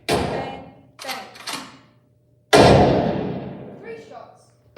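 Staged gunshots from a .45 pistol in a one-act vicarage mystery play burst out as several sharp, loud bangs, each decaying quickly, with short gaps between them.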